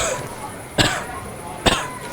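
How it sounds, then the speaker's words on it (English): A video game character coughs twice, in short sharp bursts under a second apart, against a faint steady background hum. "Now you hear the character in the game coughing."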